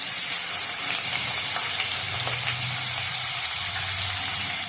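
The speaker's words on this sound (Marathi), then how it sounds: "बटाटा तेलात चांगला भाजून घ्यायचा आहे, मऊची गळी करून।" Finely chopped potato and green chili fry in oil for sabudana khichdi, producing a steady, fairly loud hiss with faint stirring ticks and no voices.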